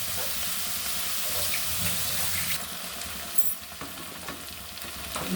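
Peas with chopped garlic and chili fry in a pan, a steady close sizzle with occasional stirring scrapes and clinks, and no talk.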